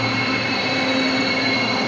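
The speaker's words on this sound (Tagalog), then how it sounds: "Nandiyan na po ang isang tren." Train running past on the rails, a loud continuous rumble with squealing wheels and sustained metallic tones, no talk over it.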